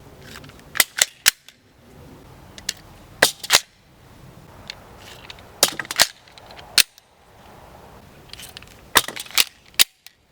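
Polymer Magpul PMAG Glock magazines dropping free from the pistol, a series of sharp plastic clacks and clatters in irregular clusters with quieter handling noise between.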